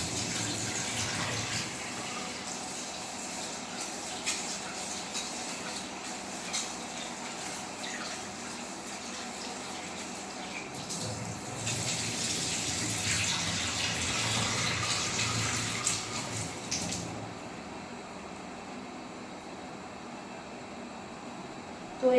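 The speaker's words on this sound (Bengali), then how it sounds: "তো দেখো চালটা ধুয়ে ভাতটা বসাই" Tap water runs steadily into a vessel while rice is washed, a continuous close gushing hiss that swells and shifts in the middle before settling, with no talk over it.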